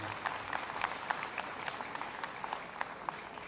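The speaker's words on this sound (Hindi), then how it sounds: "एक बार जोर से तालियां बजाइए मुख्यमंत्री जी के लिए।" A school memorial-day audience in Kaushambi claps for the Chief Minister, a faint, distant patter of scattered applause that holds steady for a few seconds.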